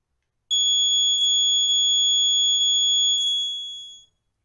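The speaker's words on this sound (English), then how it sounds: "You will notice the buzzer is now buzzing." An electric buzzer in a simple capacitor circuit gives a steady, piercing high-pitched tone that holds for about three and a half seconds and then fades gradually toward the end. No one talks over it.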